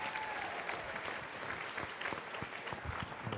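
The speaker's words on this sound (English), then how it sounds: "give yourselves a round of applause" Audience applause fills a town hall political gathering, steady dense clapping from a crowd held at an even level for a few seconds with no speech over it.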